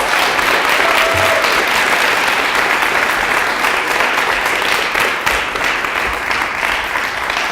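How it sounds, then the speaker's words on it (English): Loud, dense applause from the audience at a story slam as storytellers are called to the stage, a continuous roar of clapping that stays strong and even from start to finish. "Give them a huge round of applause."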